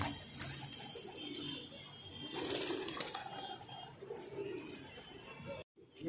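Pigeons at a home loft coo and flutter close by, a steady low murmur of birds with soft rustling and a brief drop near the end.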